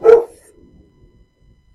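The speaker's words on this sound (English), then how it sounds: "dogs barking" A dog barks in one short, loud burst close by outdoors in a residential neighborhood, then the sound dies away to faint background rumble.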